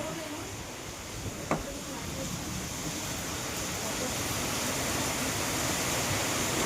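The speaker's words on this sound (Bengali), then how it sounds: "প্রচুর বৃষ্টি হচ্ছে, প্রচুর।" Heavy rain falls in a steady, broadband wash that holds at a constant level, with one brief tap standing out early.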